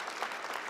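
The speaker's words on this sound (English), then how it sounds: "Big round of applause for them for helping to put this conference on." Conference attendees at the 2019 Prepare.ai event give a brief, faint burst of even crowd applause.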